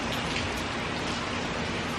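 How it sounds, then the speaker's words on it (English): Steady, dense rain pouring during Hurricane Harvey, a continuous broadband hiss with no breaks, close and moderately loud throughout. "It will continue to rain steadily."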